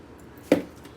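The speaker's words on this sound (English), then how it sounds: "So we're going to get our onion cut down to size" A single knife chop through a peeled whole onion on a board, one short crisp thud near the midpoint, close and fairly quiet against a soft background.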